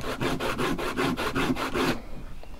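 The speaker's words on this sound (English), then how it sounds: "So to do the edge, you basically need to keep sanding this edge" Sandpaper rasps back and forth along the edge of a leather Bowie knife sheath, about eight quick, even rubbing strokes close up, then stopping, with no talk.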